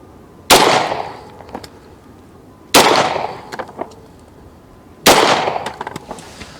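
Three loud pistol shots of Sierra 115 grain jacketed hollow point defensive ammunition, about two seconds apart at an outdoor range, each with a sharp crack and a decaying echo.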